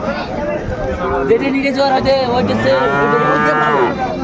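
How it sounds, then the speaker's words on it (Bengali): Cattle on a farm selling small bulls and heifer calves in Pabna, with a long, loud, close moo rising and falling in pitch amid people talking and general crowd noise. "বেশ সুন্দর গরুগুলো আমরা দেখছিলাম"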